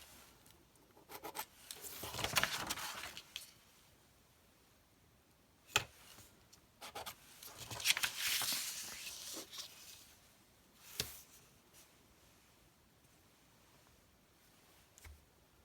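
A pencil scratches a half-inch marking line across cover paper in two longer bursts of rubbing strokes, with scattered taps and small rustles in between, close and fairly quiet.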